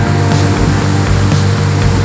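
Floodwater rushes loudly and continuously from the opened gates of the overflowing Hamipara dam in heavy rain, a dense, steady roar that fills the scene without pause.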